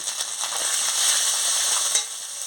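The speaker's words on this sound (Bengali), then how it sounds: "আদা বাটা দিয়ে দিচ্ছি, দিয়ে ভালো করে মশলাটাকে কষিয়ে নিচ্ছি।" Ginger paste and spices fry in a pan for an okra chachchari, giving a bright, steady sizzle broken by quick scraping strokes of a spoon, close and clear with no talking.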